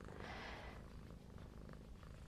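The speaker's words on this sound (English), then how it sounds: "I hope you could hear her purring." A soft, steady purr rumbles faintly and close up, low and continuous, with a brief rustle near the start.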